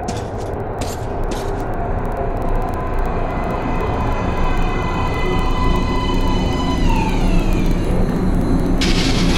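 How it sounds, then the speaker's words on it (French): A metro train pulls into an underground platform in the video game Metro: Last Light, a loud, steady rumble carrying drawn-out whining tones that drift in pitch as it arrives, with no voices. "Éloignez-vous de la bordure du quai. Le train arrive."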